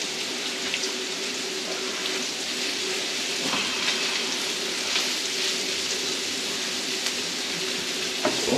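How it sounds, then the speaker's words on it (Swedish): Mackerel sizzles in butter on a griddle, giving a steady, close crackling hiss with faint pops and no talk. "Åh vad gött det puttrar."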